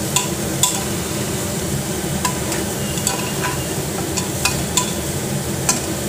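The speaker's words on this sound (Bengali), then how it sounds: "মানে 2 চামচ নুন, 1 চামচ হলুদ গুঁড়ো দিয়ে এটা ভালো করে নেড়ে নেব।" A spoon stirs daliya khichdi in a pan with salt and turmeric, making a steady sizzling fry with regular sharp scrapes and clinks against the metal, loud and close with no voices.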